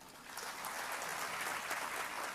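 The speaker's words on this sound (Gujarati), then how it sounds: "જબરજસ્ત તાળીઓ સાથે" Applause from an audience at a Gujarati motivational speech in Unjha, a steady wash of clapping hands holding at an even level for a couple of seconds, with no voice over it.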